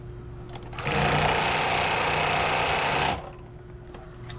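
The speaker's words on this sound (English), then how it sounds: "It can go through so many layers, so many more layers than a domestic machine." An industrial sewing machine stitches through several folded layers of fabric in one fast, steady motorized whir lasting about two seconds, with quiet room tone before and after.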